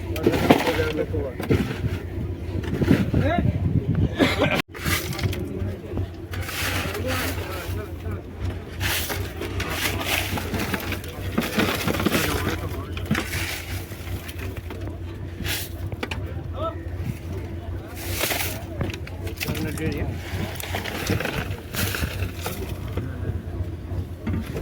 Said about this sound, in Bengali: এখানে কিন্তু বন্ধুরা আরও একটি ট্রলার ঢুকছে ঘাটে